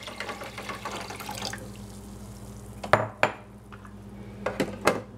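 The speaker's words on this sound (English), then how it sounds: "So now I've got my reserve purified water in here. I'm gonna go ahead and add that." Purified water pours into the reservoir of a Keurig coffee maker, a close, steady splashing flow that stops partway through, followed by a few sharp plastic knocks and clinks.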